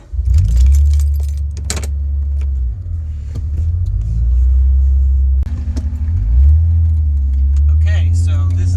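A car with a supercharged J-series engine pulls onto the road, its deep engine rumble rising and falling through gear changes, with brief rattles and a voice speaking over parts of it.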